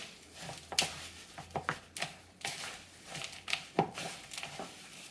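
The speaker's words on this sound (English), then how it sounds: "And now all you gotta do is mix it up" Sticky scraping and crinkling taps as energy ball ingredients with dark chocolate and chia seeds are mixed in a bowl, soft irregular strokes close by and fairly quiet.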